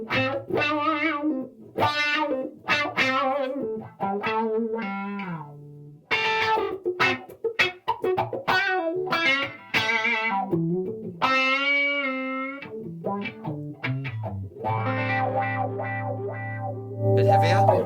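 A Stratocaster electric guitar played through an Xotic XW-1 wah pedal and distortion, loud crunchy chords and sweeping filtered single-note phrases with pauses between, ending on a sustained ringing chord.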